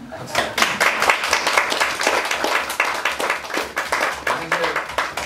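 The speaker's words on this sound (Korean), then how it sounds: "박수 쳐야죠." Audience applause closing a small book lecture, individual hand claps distinct and close, irregular yet continuous across the whole stretch, with a voice briefly underneath.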